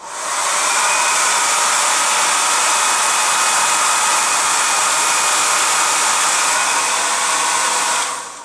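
A hair dryer blows continuously at close range, a loud steady whoosh of airflow that starts and stops cleanly.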